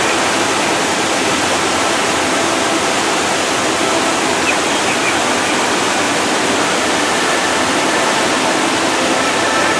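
A waterfall at Robert H. Treman State Park, heard from its base as a loud, steady, unbroken roar of rushing water with no voices.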